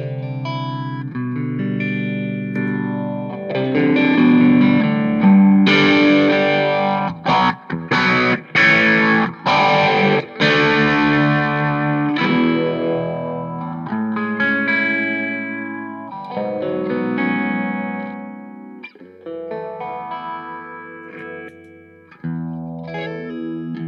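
An electric guitar runs through a pedalboard with a phaser engaged, strummed chords and single notes ringing out loud and up close with a sweeping, swirling effect and several brief choppy breaks, with no voice over it.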